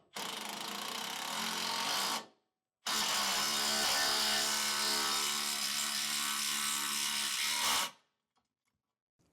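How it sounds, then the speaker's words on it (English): A power driver with a 14mm socket runs self-tapping screws into leaf spring suspension mounting holes on a 2024 vehicle, giving two close, loud steady whirring runs with a brief pause between. "Then we'll run that into our holes with a 14mm socket."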